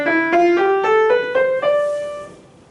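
A keyboard scale starting on D and played on white keys only, rising step by step in about seven even notes, the final one left to ring and fade, with no talk.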